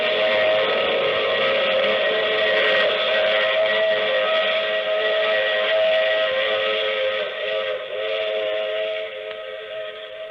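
A steam train whistle blows in a radio drama, a loud sustained chord that fades slightly toward the end, with no voices over it.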